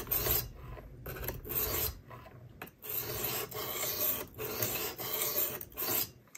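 Knife blade stroked against a 600 grit abrasive on a Work Sharp Precision Adjust sharpener, producing repeated rhythmic raspy scraping passes, close and fairly loud, with brief pauses between strokes.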